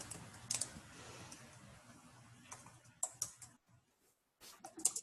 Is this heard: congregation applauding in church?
no